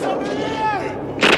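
A gunshot from the film First Blood fires near the end as a sharp, loud crack. Before it comes a tonal sweeping sound and a low rumble of film audio.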